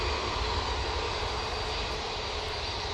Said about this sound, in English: once this Aer Lingus gets down the runway.